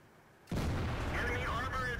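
A tank cannon shot strikes an enemy tank in World of Tanks and sets it on fire: a single sudden, loud, broadband blast after near silence, followed by a sustained roar with ringing, whining metallic tones.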